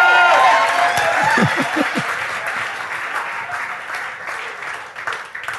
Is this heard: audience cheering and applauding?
yes